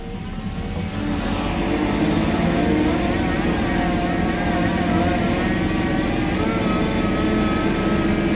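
A 6x6 feed truck engine drones loud and steady as it revs up toward a governed 1700 RPM with the mixer engaged, a heavy constant roar that builds slightly in the first second, then holds.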